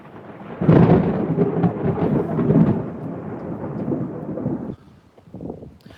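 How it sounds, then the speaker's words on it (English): Deep thunder rolls in loudly, rumbling for several seconds before fading, with rain hissing faintly beneath it. "The thunder."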